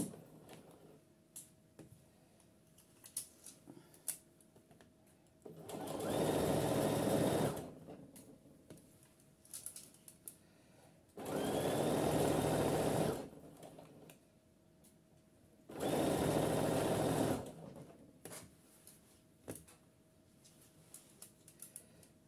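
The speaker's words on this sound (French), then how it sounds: "Je couds dans la pliure du biais." Sewing machine stitching through the fold of bias binding, running in three steady bursts of about two seconds each with quiet pauses between, close and loud with no talking.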